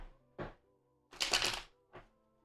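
Tarot cards being shuffled by hand, giving three separate riffling bursts with quiet gaps between them, the middle burst louder and longer and crisper than the other two.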